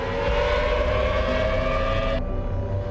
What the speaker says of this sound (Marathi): शत्रूचा मिसाईल हल्ला होण्यावेळी सायरन वाजण्यास सुरुवात होते।